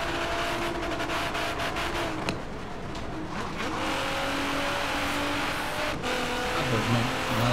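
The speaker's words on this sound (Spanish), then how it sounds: "Porque mi coche va a llegar al limitador." Car engine in Forza Horizon 3 held high near the rev limiter during a race, a steady loud drone with a brief shift dip around the middle and tire noise.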